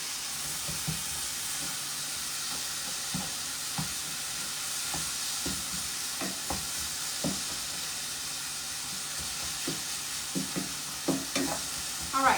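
Taco meat with a packet of seasoning being stirred in a pan, a constant hissing sizzle with scattered soft spatula scrapes and clicks, moderately quiet and steady throughout.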